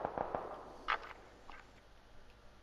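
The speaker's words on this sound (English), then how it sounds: "I can hear gunshots." Distant gunfire in the battle-royale game PUBG sounds as faint, sharp cracks: a quick run of three, then a stronger shot near one second and a few scattered softer ones over quiet background hiss.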